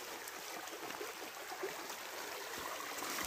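A small stream trickles and gurgles steadily close by in a quiet outdoor spot, soft continuous water flow with no voices.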